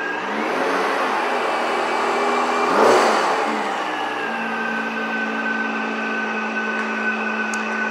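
A supercharged Nissan Maxima revving, with a rising engine surge that peaks and then settles into a steady idle, a sustained high supercharger whine clearly audible over the mid-pitched engine note, close by.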